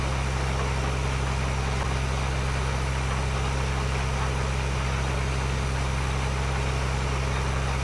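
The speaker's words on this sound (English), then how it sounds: "I'm surprised this tractor is actually pulling it" A tractor engine pulling a seeder in Farming Simulator 2013 hums at a steady, droning low pitch with constant vibration, unchanging throughout and free of speech.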